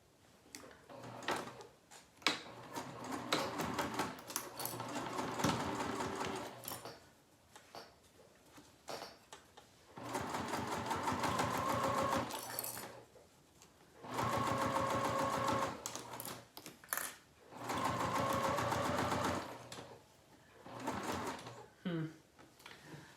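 Sewing machine stitching a seam on a Devon pouch, close-up bursts of rapid mechanical whirring and clatter, several runs of a few seconds each separated by short pauses with light handling.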